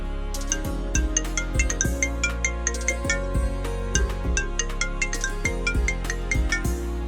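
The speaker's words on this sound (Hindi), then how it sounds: "तभी उसका फोन रिंग करता है।" A melodic electronic ringtone plays a repeating chime pattern with a steady bass beat, loud and close, no voices.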